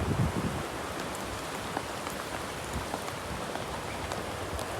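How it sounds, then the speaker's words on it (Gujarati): Rain falling steadily on open farm fields during a downpour, a dense, even hiss of drops with a short rumble of wind at the start and no talking. "વરસાદ ચાલુ થઈ ગયો પલળી રહ્યા છીએ."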